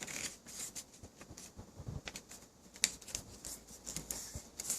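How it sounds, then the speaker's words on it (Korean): Paper being creased and folded by hand while making a magic cube, producing soft, close crinkles and sharp creasing taps in an irregular rhythm, with no talking. "그 다음에 이쪽 가운데로 또 똑같이 접어주세요."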